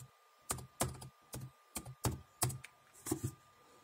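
Soft keystrokes on a computer keyboard while a Windows password is typed on a recovery screen, about eight or nine separate taps at an uneven pace, quiet and close with no talk.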